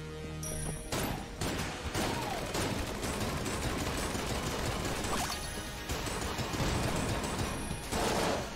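Shotgun of Hate blasts in Enter the Gungeon, loud bursts of gunfire repeating in quick succession across a busy battle with crashing impacts and mechanical clatter, no voices.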